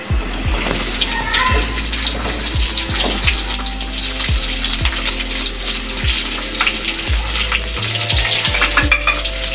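Onion added to garlic already frying in a pan sizzles loudly and steadily, while a regular thumping of stirring strokes repeats roughly every half second underneath.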